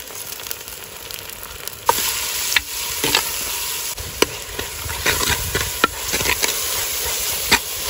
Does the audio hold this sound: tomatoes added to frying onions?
yes